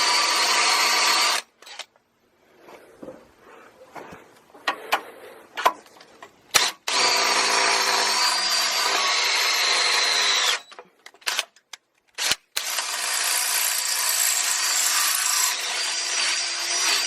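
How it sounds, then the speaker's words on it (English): A power drill bores holes through a steel axle bracket on a 2500HD solid-axle swap, running in three long, loud, steady bursts separated by short pauses and light clanks of handling. "you're gonna drill these other holes out"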